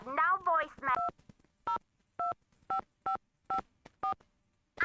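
Telephone keypad tones dial a voicemail system in the Nancy Drew game Secret of the Scarlet Hand: a short spoken voice, then seven crisp, evenly spaced beeps.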